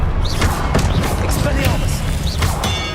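Confringo and Incendio spell blasts from Hogwarts Legacy hit in quick succession during dense, loud combat, with whooshing casts and thudding impacts piling over a constant low rumble.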